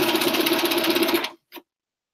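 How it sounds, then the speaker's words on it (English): A sewing machine stitches through canvas over pin holes in one steady, loud run of about 1.3 seconds. After it stops, a single short burst of the motor follows, then silence. "I'm sewing over where my pins came out."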